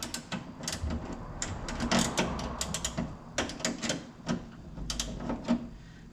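A ratchet with a short socket tightening a coilover bolt on a 1964–70 Ford Mustang, giving close, irregular bursts of clicking pawl ratchets and metallic knocks, with no talking.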